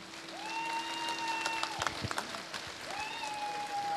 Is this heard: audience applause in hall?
yes